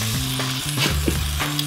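Eggs and homemade ham fry in a pan with a loud, continuous close sizzle and crackle, with brief stirring scrapes over a low tonal hum.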